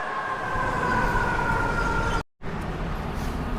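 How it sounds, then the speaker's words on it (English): A fire truck siren sounds on a Brooklyn street, its tones fading as it passes, with a brief dropout of all sound midway before the traffic noise resumes. "That's a fire truck."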